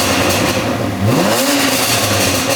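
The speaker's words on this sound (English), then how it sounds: "Right, revs with valves shut first." BMW M4 engine revving with its exhaust valves shut, a fairly subdued stock-sounding rev that rises in pitch over about a second then falls back toward idle, close by with a steady background rumble.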